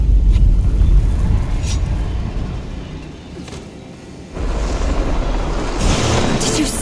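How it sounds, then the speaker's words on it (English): Bloodstone explosion in the video game Guild Wars 2, a heavy, rumbling boom that swells, fades, then surges again with whooshing debris, loud and close. "That bloodstone explosion seemed to trigger some sort of magical echo."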